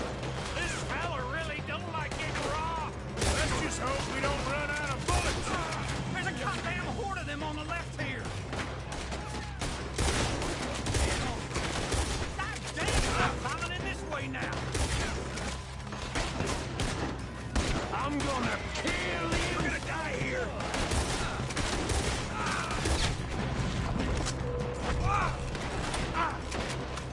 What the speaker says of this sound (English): Let's just hope we don't run out of bullets.